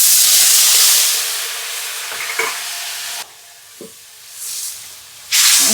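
Mustard paste water poured into a hot pan, setting off loud, close sizzling and steaming hiss in bursts, with stirring scrapes and short quieter gaps between surges.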